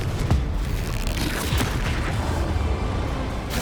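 A Confringo blasting spell explodes in Hogwarts Legacy, a dense, loud booming blast with crackling bursts layered over continuous rumbling game noise.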